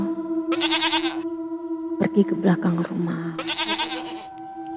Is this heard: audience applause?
no